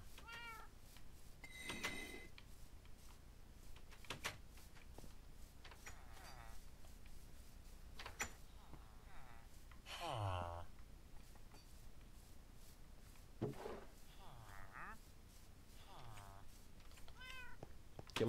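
Cats meow repeatedly inside a village-building video game, several short high cries scattered through the stretch at moderate volume beneath a player talking over the game.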